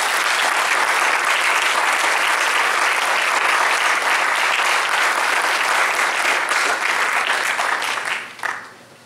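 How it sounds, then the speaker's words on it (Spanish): Sustained, vigorous applause from a church congregation fills the space for about eight seconds before tapering off abruptly near the end. "Démosle un aplauso al Señor."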